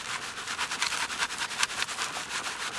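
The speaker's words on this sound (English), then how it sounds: "you're really gonna have to vigorously shake that pan back and forth" A gold pan is shaken vigorously side to side for dry panning desert gold, giving rapid rhythmic gritty rattling and scraping of dry material, close and fairly loud, with no talk.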